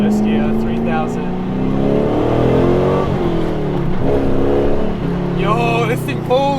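An LS V8-swapped Mazda RX-7 FD accelerating hard in first gear, its engine note rising in close, loud sweeps that fall back between pulls. People talk over it.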